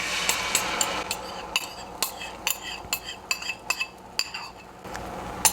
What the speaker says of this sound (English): now you're going to dump your your beaten eggs into your hot pan